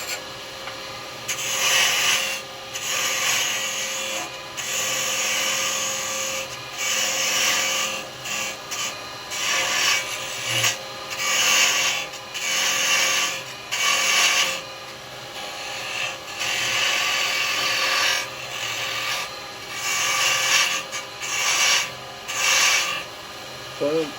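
A carbide chisel takes a planing cut on wood spinning on a lathe, a continuous close scraping rasp that swells and eases in uneven bursts as the tool moves along the workpiece.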